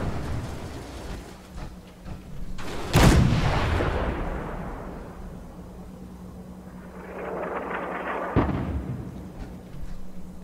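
Two heavy artillery booms land in the video game Fallout 4, each followed by a long rolling rumble and whooshing debris. The blasts are loud and close against a low steady hum.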